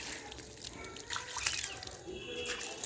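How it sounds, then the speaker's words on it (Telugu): Water is poured onto garden plants, splashing and trickling with a soft continuous wet patter and a few brighter drips, heard fairly close over faint background noise. "మొక్కలకు నీళ్ళైతే వేస్తున్నారు మొక్కలకి నీళ్ళు చూడండి అలా వేస్తున్నారు"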